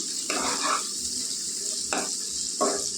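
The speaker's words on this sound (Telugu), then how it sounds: "చూడండి, బాగా ఎర్రగా వేగాయి కదా ఉల్లిపాయలు." Onions frying in a pan for mango pulusu, a constant close sizzle broken by three short scraping bursts as a spoon stirs them.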